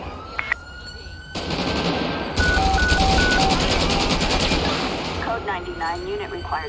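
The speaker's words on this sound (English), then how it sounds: "Shots fired." A long, loud burst of rapid gunfire erupts during a terrorist-attack scenario in GTA V with the LSPDFR police mod, with siren-like tones and someone talking as it fades.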